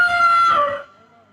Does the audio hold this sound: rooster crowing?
yes